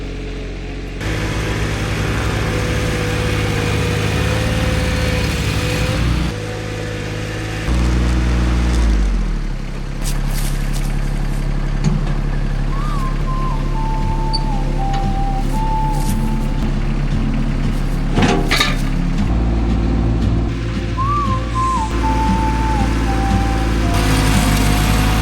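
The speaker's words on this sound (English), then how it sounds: "I'm gonna use the landscape rake and push this back." A tractor pushes manure back into a pile with a landscape rake on a homestead, its engine droning steadily and loudly throughout, with shifts in pitch as the load changes and no talk.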